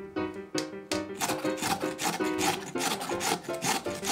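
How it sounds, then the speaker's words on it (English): Daikon radish being grated on a regular grater, loud close rasping strokes in a quick repeating rhythm with short pauses between some passes, no talk. "First, grate the daikon radish. Using a regular grater will give it a fine texture"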